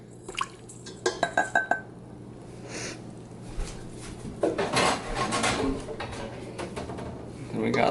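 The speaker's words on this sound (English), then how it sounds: "I think we're ready to start mixing. It's probably gonna splash." Chocolate chip cookie ingredients, including dark brown sugar, are mixed in a bowl in a home kitchen, with bright clinks of utensil against bowl, scraping and clattering dishes, plus faint wet sloshing throughout.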